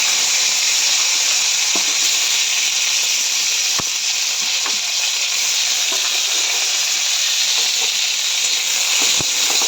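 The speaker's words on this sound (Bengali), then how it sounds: "এবার আমি এর মধ্যে এখন একটু টমেটোগুলো দিয়ে দেবো।" Tomatoes sizzling in hot oil in a pan while cooking an orange (citrus) chutney, a steady loud hiss of frying with a few faint scattered clicks of a utensil.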